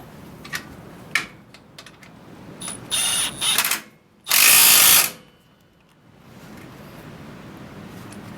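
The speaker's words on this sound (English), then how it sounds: "Then we take our 1/2-inch M12 impact gun, run it tight, just like that" A 1/2-inch M12 impact gun tightens a nut on a Fairmont MT19A railroad motorcar, two loud buzzing bursts of hammering with a short pause between them, then a longer sustained run, preceded by scattered light clicks and clanks.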